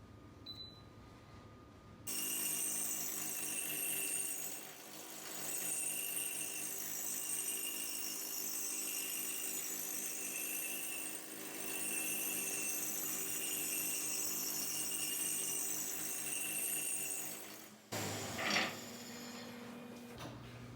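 A reel mower grinder works a mower reel in a steady, continuous grinding run that starts abruptly and holds an even level for about fifteen seconds before cutting off, with workshop noise on either side.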